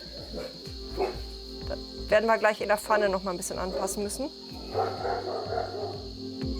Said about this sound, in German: Ja, die lieben Hunde.